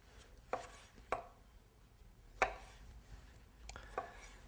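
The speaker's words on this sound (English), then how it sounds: "I'm just going to slice a few tomatoes." A knife slices through organic cherry tomatoes on a cutting board, giving about five soft, separate cuts at an uneven pace, quiet and close.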